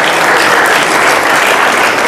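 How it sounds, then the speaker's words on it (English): An audience at a rabbis' gathering claps for honorees in a dense, continuous burst of applause, loud and close, with no pauses. "Let's clap once again our hand to them."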